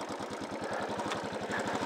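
A 2014 Royal Enfield 500 Bullet Classic with fuel injection and a five-speed gearbox, its single-cylinder engine running close by with a steady, even thumping pulse and no voices.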